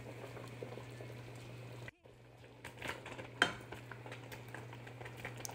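Cassava leaves go into a pot of boiling liquid on the stove, a steady low bubbling hum and soft stirring clatter broken by a short pause, then a brief sharp clink of utensil against pot.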